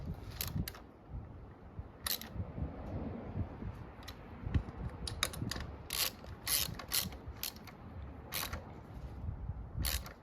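A ratchet clicks in quick bursts while tightening the bolts of an integrated taillight and tucked mount on a 2022 Yamaha YZF-R7, sharp, close and repeated, with soft handling noise between bursts.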